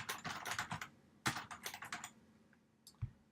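Close computer keyboard typing in two quick bursts of rapid keystrokes separated by a brief pause, followed by a couple of isolated taps, in a quiet room.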